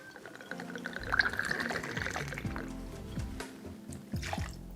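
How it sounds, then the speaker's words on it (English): An ounce of vodka is poured into a cocktail shaker while making a Christmas cocktail, a short close trickle and splash of liquid over light background music. "We're going to pour an ounce of vodka into our shaker here."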